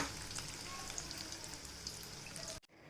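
Chicken pieces frying in a pan for homemade shawarma give a steady, dense sizzle that runs without a break until it cuts off abruptly near the end, with no talking.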